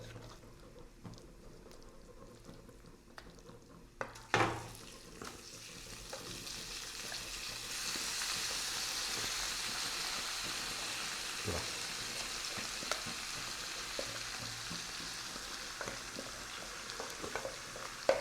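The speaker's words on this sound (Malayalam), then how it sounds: "ബീഫ് ഇട്ടതിന് ശേഷം നമുക്കൊരു മിനിറ്റോളം ഒന്ന് മിക്സ് ചെയ്ത് കൊടുത്താൽ മതി." Precooked beef tossed into a hot pan of masala crackles into a loud, steady sizzle after an initial clatter, with stirring scrapes continuing throughout.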